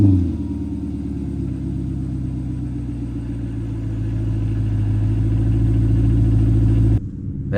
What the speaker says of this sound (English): that V8 fires right up